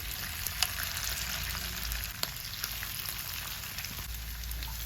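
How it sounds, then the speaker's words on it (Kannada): Marinated pork for Pork Manchurian fries in oil in a pan with a steady, fairly quiet sizzle and occasional small pops, heard alone without speech. "ಇವಾಗ ಒಂದು ಪ್ಯಾನ್ಗೆ ಎಣ್ಣೆನ ಹಾಕ್ತಾ ಇದ್ದೇನೆ. ಮ್ಯಾರಿನೇಟ್ ಮಾಡಿರುವ ಪೋರ್ಕನ್ನು ಹಾಕ್ಕೊಳ್ಳೋಣ."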